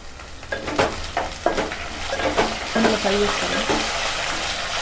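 Curry leaves crackle and sizzle in hot oil with amaranth leaves, garlic and onion frying in the pan, a steady close hiss broken by a few sharp spatters and some stirring scrapes.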